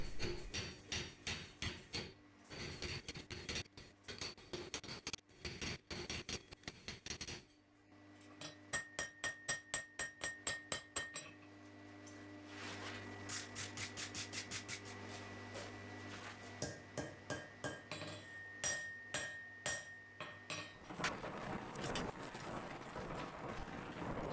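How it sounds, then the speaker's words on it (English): Repeated hammer blows forging a metal door handle with a pigtail twist, sharp ringing strikes in bursts and rapid flurries with short pauses between, close and loud. "Now I'll forge a door handle with a pigtail twist to dissipate heat."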